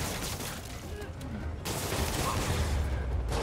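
Sable's gunfire in the Spider-Man PS4 video game, a steady noisy barrage of shots and impacts mixed with combat effects and background game sound.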